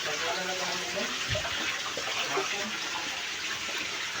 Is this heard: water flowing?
yes